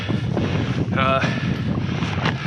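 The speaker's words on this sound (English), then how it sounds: "as you guys can probably hear, there's the wind" Wind gusts around a truck on the road, a constant loud rushing roar against the microphone, with a brief tonal whine partway through.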